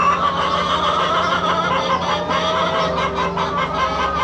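Chickens clucking on a farm, a dense, continuous chorus of overlapping calls from several birds, loud and close.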